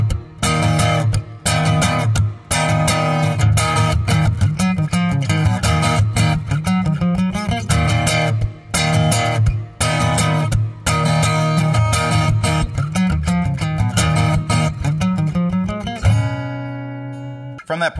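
Acoustic guitar playing driving E5 power-chord chugs with a walk-down between them, from a song, loud, close and continuous, ending on a sustained ringing chord.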